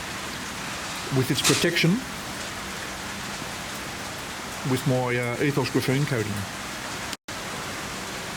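Rain falls steadily on a graphene-coated car, a constant close hiss running under two short stretches of someone talking, with a brief dropout near the end.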